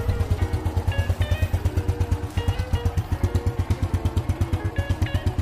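A 1991–1993 Honda Astrea Grand motorcycle engine idling up close, with a loud, even, rapid putter of exhaust pulses that holds steady the whole time.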